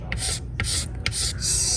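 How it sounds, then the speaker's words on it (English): Scraper dragged across a weld on a ski base, four rasping strokes in a steady rhythm, close and loud with no speech. "I just scrape until I see the outline of what we filled again"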